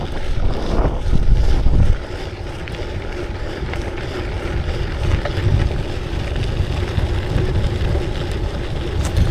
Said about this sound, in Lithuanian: tačiau labai daug vėjo šiandien